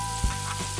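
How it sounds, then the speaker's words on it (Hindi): Finely chopped onion and ginger dropped into hot oil with toasted cumin for stuffed capsicum, giving a brief close sizzle that settles into a steady low frying hiss. "जीरा भुनने के बाद अब हम इसमें बारीक कटा हुआ प्याज और अदरक डालकर"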